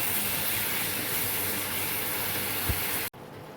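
A spice paste of cumin, coriander, chilli powder and turmeric hisses loudly in the pan as a little water is added, a steady close sizzle for about three seconds that cuts off abruptly.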